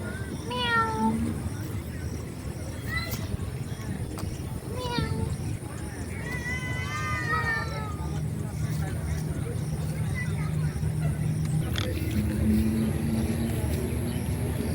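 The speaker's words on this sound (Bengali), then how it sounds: "বিড়াল" A cat meows several times beside a sandy riverbank, short rising cries heard near the start and middle over outdoor background noise, with people talking nearby.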